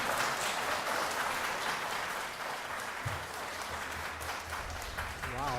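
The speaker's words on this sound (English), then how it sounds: "that's the first time you've ever gotten applause" An audience at a city council meeting applauds in a continuous dense patter, heard faintly at a distance, with a voice starting up near the end.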